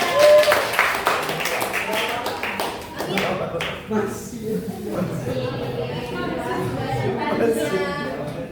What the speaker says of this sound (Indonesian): Tepuk tangan dulu buat Ananya.